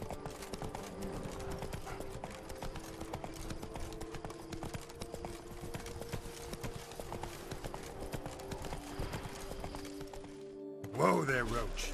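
In The Witcher 3: Blood and Wine, the horse Roach gallops with a steady rapid clip-clop of hooves under game music and talking, then slows to a stop near the end.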